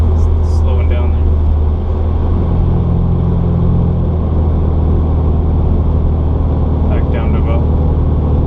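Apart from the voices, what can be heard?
car engine and exhaust with CNT exhaust, no silencer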